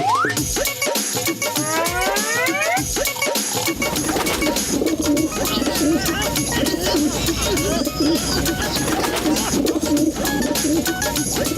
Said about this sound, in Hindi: कबूतरों ने तो जीना मुश्किल कर दिया है।